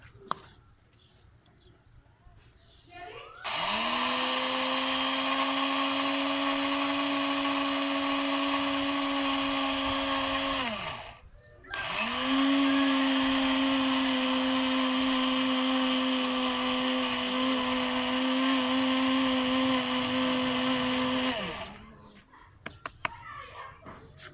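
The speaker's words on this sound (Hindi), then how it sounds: "ये ग्राइंडर मशीन में डालें।" Electric grinder whirring as it blends sugar and cornflour into icing sugar, a loud, steady high-pitched motor whine in two long runs separated by a brief pause, with quieter handling noise before and after.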